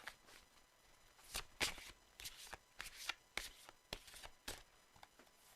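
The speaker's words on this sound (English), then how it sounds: "shuffle the cards" A hand-made oracle card deck is shuffled quietly at close range, the soft papery riffles and taps coming in irregular bursts with short pauses between them.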